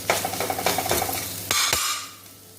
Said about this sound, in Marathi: सर्व साहित्य छान परतून घ्यायचं आहे. पुन्हा एकदा मसाले छान शिजू द्यायचे आहेत.